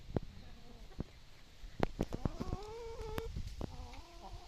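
Wyandotte chickens clucking in short, irregular bursts, with a few longer drawn-out squawks, fairly faint against a quiet background.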